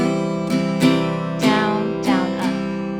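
Acoustic guitar strummed in a down-down-hammer pattern, five sharp chord strokes with a hammer-on note ringing between them, close and clear with no talking.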